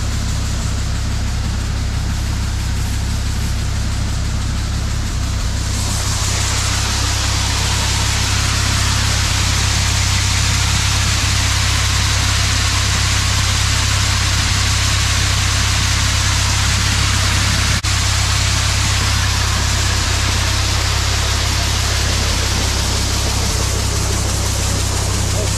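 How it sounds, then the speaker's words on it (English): A combine harvester's engine runs steadily while harvesting corn, a loud continuous mechanical drone with broadband noise that holds throughout, shifting slightly in tone partway through, with no talk. "the combine's actually doing a fairly decent job of harvesting, so we'll just let it do its thing"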